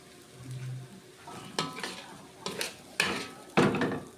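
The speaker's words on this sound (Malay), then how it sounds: "Sekarang angkat, masukkan dalam pinggan." Scraping and clinking of a utensil against a pan as fried noodles with sausage are scooped onto a plate, several sharp knocks rising louder toward the end, no voices.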